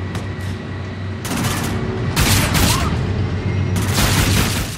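Gunfire in the Call of Duty Infinite Warfare campaign, loud bursts of rapid shots and booming blasts over a continuous low rumble, with no talk.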